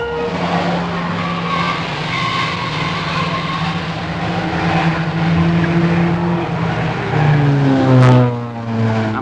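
Formula One race cars, including a Lotus BRM, a Cooper Climax and a Lola, roar around the Crystal Palace circuit. Loud, continuous engine whine sweeps up and down in pitch as cars rush past close by.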